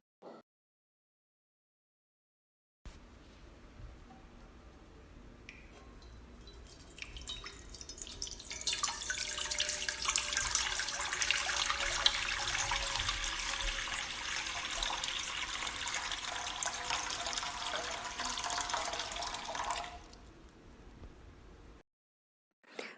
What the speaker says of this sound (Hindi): अब चलिए इसे साफ पानी में धो लेते हैं।